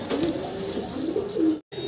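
Young red Danish pigeons coo softly and repeatedly close by, low throaty calls rolling over one another, broken by a brief silent cut near the end.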